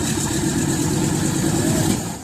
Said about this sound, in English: The radial engine is nothing like what we normally see these days.